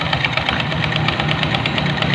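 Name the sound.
noisy motorcycle engine running with a loose drive belt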